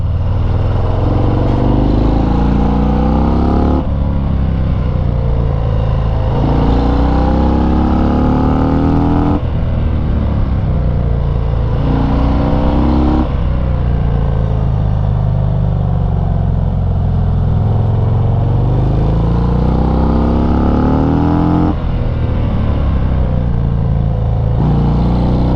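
Cars pass close by on tight mountain switchbacks of the Devil's Whip, heard from a 2019 Harley-Davidson FXDR 114 whose steady engine drone and wind roar dominate, with engine surges rising and falling every few seconds.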